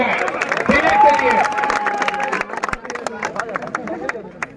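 A crowd applauds a catch at a final match in Mahottari, with scattered claps and crowd noise that thicken toward the end while a voice talks over it.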